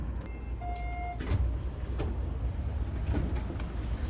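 Hanshin Main Line train pulling into Osaka-Umeda station, steady low rumble of the carriage with soft clunks and a brief thin tone, heard from inside the train, no talk.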